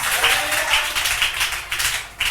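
A church congregation applauding together, a dense, loud, sustained wash of many hands clapping that swells and dips slightly in a large room.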